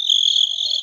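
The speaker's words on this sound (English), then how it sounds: "I got some crickets here." Crickets chirp in a steady, continuous high trill, loud and close, with no voices.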